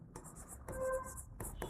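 A pen scratches math onto paper in short, quiet bursts of strokes, close to the microphone, with faint room noise between them.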